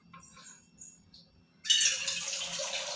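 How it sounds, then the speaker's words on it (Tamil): After a short quiet pause, water suddenly pours into a bowl of gram flour batter for sambar, giving a close, steady splashing stream. "கொஞ்சம் தண்ணி விட்டுக்கலாம்."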